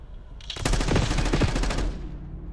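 Rapid automatic gunfire in the video game Black Ops 6, a dense burst of about a dozen evenly spaced shots lasting over a second, loud and close, with a fading tail.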